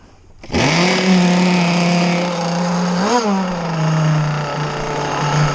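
Small gas engine on an RC boat starts abruptly and runs with a loud, close buzzing drone, briefly revving up and down midway before settling back to a steady high-pitched idle.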